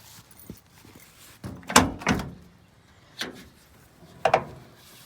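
Rear door of a 1990 Daihatsu Rocky being opened, with a few sharp latch clunks and metallic thunks spread over several seconds, close up in a quiet setting.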